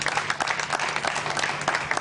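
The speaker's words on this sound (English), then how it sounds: "Give your hand of applause, please." Audience applause for hospital doctors and biomedical engineering staff at a medical center ceremony, a steady, dense clapping from a crowd lasting a couple of seconds.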